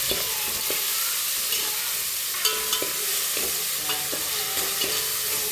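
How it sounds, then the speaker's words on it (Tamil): Ginger garlic paste sautéing in a pan of oil, a steady hissing sizzle broken by intermittent scraping and tapping of a spatula, close and moderately loud, without speech. "இப்போ இஞ்சி பூண்டு பேஸ்ட் போட்டுக்கலாம் நல்லா வதக்கிடலாம்"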